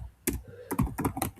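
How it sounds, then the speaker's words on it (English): Quick keystrokes on a computer keyboard while coding in Python, a few irregular clicks in short clusters, close and crisp with no talking. "Let's type over here."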